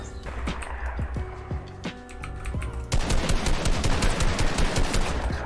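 Rapid gunfire in a Fortnite arena fight, with scattered shots early on giving way to a dense, loud burst of repeated firing and impacts in the second half.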